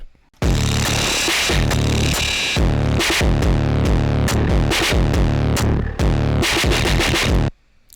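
The Trapdoor drum pattern reamped through a Retroactive Pedals Iso Cab, sounding dense and saturated, with a thick, sustained wash under the steady hits. It plays loud and continuous for several seconds, then cuts off.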